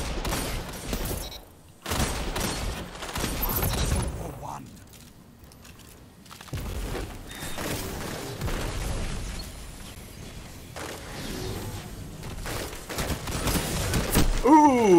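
Rapid bursts of weapon fire in the Destiny 2 Crucible player-versus-player mode, sharp volleys and explosions in quick clusters with brief lulls, while a player talks over the action.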